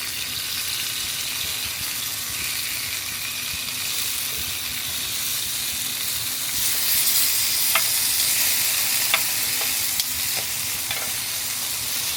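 BBQ chicken sizzles steadily on a Ninja Sizzle Grill, a dense broadband hiss with a few faint clicks and pops standing out, growing slightly louder partway through, with no talk.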